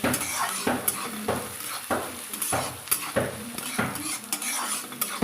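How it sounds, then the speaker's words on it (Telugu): Ingredients for a tomato curry sizzle in a pan while a utensil stirs and scrapes in quick, irregular strokes, close and moderately quiet, with no talking. "ఇవన్నీ ఫ్రై చేసుకుందామా"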